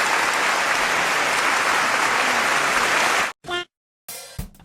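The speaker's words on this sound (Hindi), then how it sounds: "तो एक बार जोरदार तालियां हो जाए इनके लिए।" Loud, dense applause from a crowd at a comedy roast, sustained for about three seconds before cutting off abruptly, followed by brief fragments of other sound.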